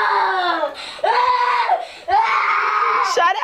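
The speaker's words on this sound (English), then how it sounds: "So why are you screaming?" A young child screams and wails in long, shrill, rising cries, three loud close bursts separated by brief gasping breaks.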